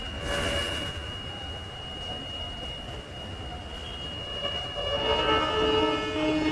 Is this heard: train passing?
yes